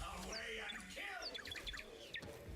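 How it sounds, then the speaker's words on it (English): Birds chirping in the video game Soulframe: bright, quick tweets and rising calls scattered through a busy, continuous game soundscape, moderately loud, with a voice talking briefly underneath. "Happy birds"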